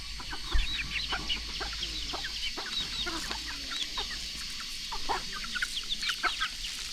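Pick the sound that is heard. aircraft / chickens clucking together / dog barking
chickens clucking together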